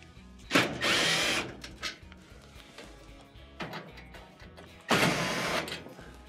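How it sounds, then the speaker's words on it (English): A power drill removes Phillips head screws from the top panel of a Frigidaire gas range. Several short whirring bursts come close and fairly loud, separated by quiet clicks and handling noises. "to remove the top, you have two more Phillips head screws on the left and right side."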